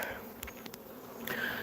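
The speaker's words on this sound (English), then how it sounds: "We put 12 pounds of bees in that tall orange one" Honeybees buzz around a Russian Scion swarm trap, a steady insect drone with individual bees flying close past the microphone, and no voices.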